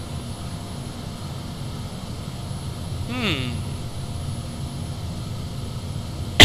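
A propeller airplane in the video game Saints Row 4 drones steadily throughout, with a brief rising whine passing midway and a soft murmur from a man.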